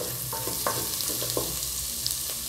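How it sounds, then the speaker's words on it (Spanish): Garlic frying in a pan for a red noodle and chicken dish, a steady close sizzle with a few light stirring scrapes and clicks, no voices. "Vamos a freír los ajos."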